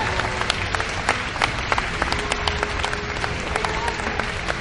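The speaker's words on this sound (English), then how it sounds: "Let's give him a big round of applause for it." A crowd at an esports championship final applauds steadily, many hands clapping at once in a sustained, moderately loud wash of claps.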